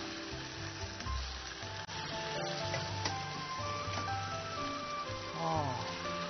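Ingredients stir-fried in hot oil for a homemade mala spicy pot on a TV cooking show: a steady, close sizzle with occasional stirring scrapes runs throughout while people talk over it.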